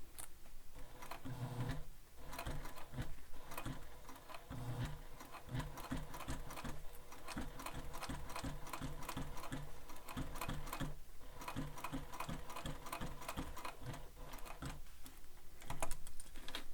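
A sewing machine stitches a sling pack in a long, steady run of rapid, even needle strokes, close and clear with no voices, with a brief pause near the start and a slight surge at the end.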